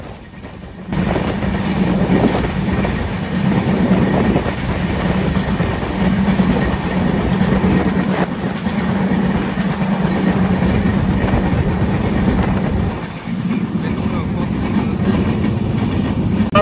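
The Madhumati Express with LHB coaches runs at speed, giving a loud, continuous rumble with rhythmic clatter and strong wind rush that holds steady for most of the run after a quieter opening moment.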